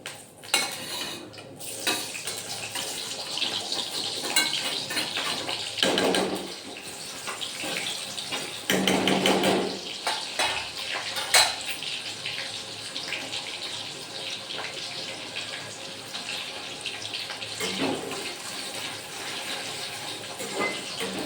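Hot water splashes and runs into a cooking pot of besan varan with clinks of metal and stirring, a steady wet hiss with a few louder sloshes throughout.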